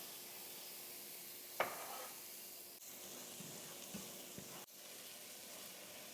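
Onion frying in butter in a pan for pumpkin risotto: a steady, soft, broadband sizzle with a few stirring clicks and scrapes heard close.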